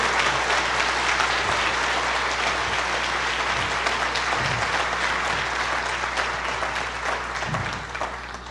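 A church congregation applauds steadily at a sermon, a dense, loud wash of many hands clapping that holds for several seconds before easing slightly toward the end, with a low steady hum underneath and no talk over it.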